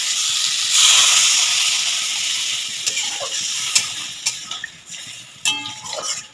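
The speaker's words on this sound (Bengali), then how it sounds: "এবার আমি জল দিয়ে দেব।" Water poured into a hot pan of spiced potatoes frying for a Bengali prawn curry gives a sudden loud steam hiss. The hiss fades to a softer simmer, with a few sharp clicks of a spoon against the pan.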